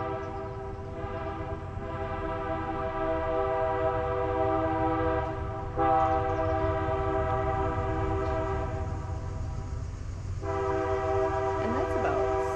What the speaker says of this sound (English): I'm gonna wait for the stupid train.